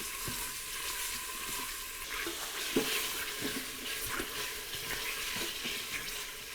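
Chicken hardwood smoked sausage browning in an Instant Pot, a steady soft sizzle and hiss of frying with occasional scrapes and clinks of stirring, close and continuous.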